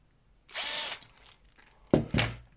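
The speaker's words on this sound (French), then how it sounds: "juste un petit coup de perçage pour indiquer où est-ce qu'on va mettre tout ça" A power drill bores marking holes through handmade business cards in two bursts: a steady whine of about half a second, then two sharp, loud spurts near the end, close up with no talking.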